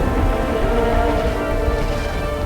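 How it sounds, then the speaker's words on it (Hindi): Steady, loud wash of falling rain, close and continuous with a low rumbling undertone, no voices. "देखो बारिश हो रही है"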